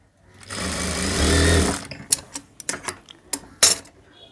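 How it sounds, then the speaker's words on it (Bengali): A sewing machine runs in one continuous whirring burst of stitching on a piped band collar, then gives several short stuttering bursts and sharp clicks close by, with no talking. "আমি আটকানোর জন্য একটা সেলাই দিয়ে নিচ্ছি"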